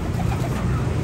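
Soft pigeon cooing over a low, steady background rumble, brief and moderately close.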